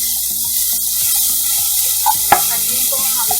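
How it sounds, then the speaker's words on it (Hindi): Two large chopped onions stir-frying in a pan for vegetable spring rolls, with a steady sizzle broken by repeated scraping stir strokes and a couple of sharp clinks, close and fairly loud. "अनियन को हम हल्का ब्राउन होने तक भूनेंगे।"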